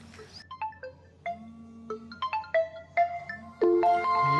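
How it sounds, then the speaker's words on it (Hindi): A mobile phone rings with a bright melodic ringtone, clear tonal notes stepping up and down near and loud, building into a fuller chord toward the end with no voices over it. "आज वो साथ में नहीं है तो उसका फोन ही आ गया"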